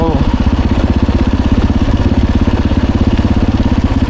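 The engine of a new motorcycle runs steady and loud up close, a rapid, even low-pitched putter that keeps a regular pulsing rhythm throughout.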